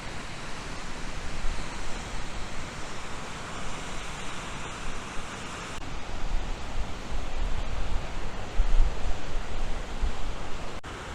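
A waterfall and stream at Grey Mare's Tail in Scotland give a steady, dense rush of falling water. The sound stays loud and close throughout, with no voices over it.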